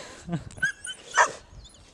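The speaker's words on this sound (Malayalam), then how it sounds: "എൻ്റെ ഒറ്റ ധൈര്യത്തിലാണ് ഈ നായി ഇവരോട് കുരക്കണത്." A dog barks at rival dogs in a few short, sharp yaps, fairly close, while people talk and urge it on nearby.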